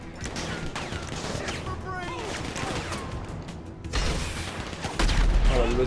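Rapid gunfire from GTA 5 in solo survival mode: dense, overlapping bursts of shots and mechanical clatter run throughout, growing heavier and louder in the final seconds, with game noise and faint voices mixed in.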